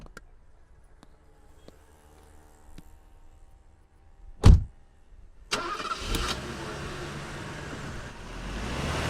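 A car engine cranks with a sharp burst, then catches and runs with a steady, rising engine noise as it pulls away, after a quiet start with a few light clicks.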